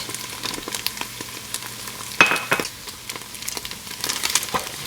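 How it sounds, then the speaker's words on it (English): Sausage meat sizzles steadily in a frying pan as flour is sprinkled over it, with a soft crackling hiss and a brief louder rustle partway through, close up and with no talking. "take your cup of flour and sprinkle it over the meat"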